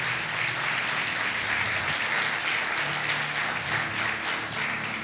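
A church congregation applauds during a prayer campaign service, a thick, even wash of clapping that stays loud and steady for several seconds.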